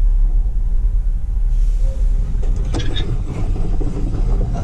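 A truck drives along a road, its engine rumbling steadily and loudly throughout, with road noise and faint higher clatter rising partway through and no voices.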